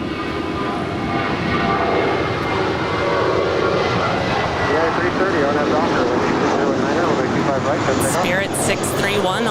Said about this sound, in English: Spirit 631 off to Atlanta. It's a 12-year-old A320.